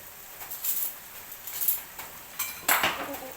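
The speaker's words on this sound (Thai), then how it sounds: "เดี๋ยวคนให้เข้ากันดีๆก่อน" Utensil scraping and clinking against a pan while stirring stir-fried bamboo shoots with pork and coconut milk, a series of short irregular metallic scrapes, fairly close.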